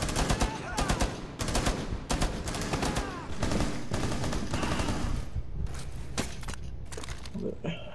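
Rapid automatic gunfire rattles through a Rainbow Six Siege match in dense close bursts, loud and crowded with overlapping shots, thinning out toward the end.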